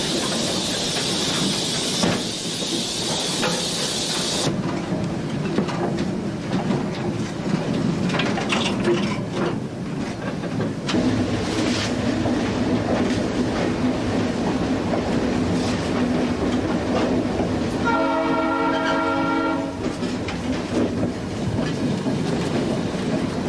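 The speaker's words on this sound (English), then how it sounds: "Soon the train rolled out of Snow Junction" A heritage excursion train on the Adirondack Centennial Railroad rolls steadily along the track, with a continuous rumble, rhythmic clickety-clack from the wheels and a brief tonal whistle or squeal near the end, heard up close with no talking.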